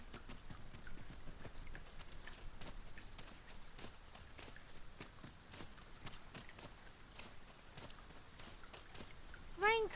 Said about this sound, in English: Rain casts a pall over any adventure.